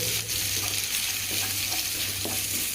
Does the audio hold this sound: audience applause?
no